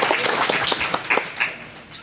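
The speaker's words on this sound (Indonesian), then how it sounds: "kita tepuk tangan dulu untuk kita semua yang hadir di sini" Brief applause from the crowd at the opening of a new junior high school, a short burst of clapping that peaks and tails off over two seconds.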